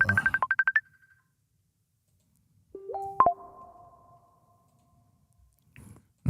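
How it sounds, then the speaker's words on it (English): A phone ringtone sounds up close and loud: a rapid run of beeping pulses, then a pause and a few sustained electronic tones with a short blip at the end. No one speaks. "while I try to answer this phone call"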